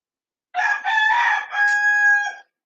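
A rooster crows once, close and clear, a single drawn-out cock-a-doodle-doo lasting about two seconds against silence.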